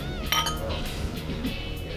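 Wine glasses clink together in a toast at a family winery, one bright ringing chime near the start followed by faint background murmur.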